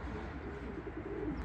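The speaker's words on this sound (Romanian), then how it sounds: "Uite, mai sunt și porumbei pe aici de tot vin." Pigeons cooing close by, soft low murmuring coos repeating over a quiet outdoor background, faint and brief.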